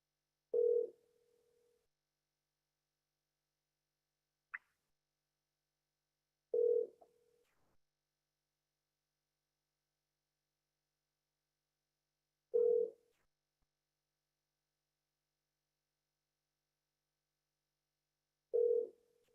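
A telephone line rings back in four evenly spaced single tones about six seconds apart while a call to a mortgage company waits to connect, each tone clear and isolated against near silence.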